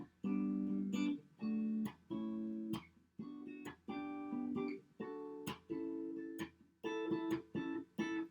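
Guitar strums a chord progression built from triad inversions, each chord ringing clearly in a steady series of about ten strokes, close and alone.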